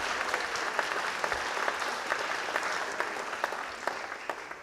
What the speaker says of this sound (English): Can we please give an applause to those who have been awarded sabbaticals?